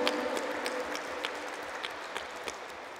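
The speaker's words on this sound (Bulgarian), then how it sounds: "това е първата институция, на която ще благодарим с бурен аплодисмент." Applause from the audience at an international energy gathering in Petrich: a faint, steady patter of clapping hands heard from a distance, continuous for the whole stretch with scattered sharper claps.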